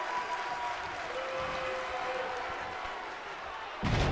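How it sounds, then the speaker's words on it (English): Wrestling arena crowd in WWE 2K22 reacting, a continuous murmuring and clapping roar held at a distance under the match sounds, swelling slightly near the end. "The crowd displeased with that one."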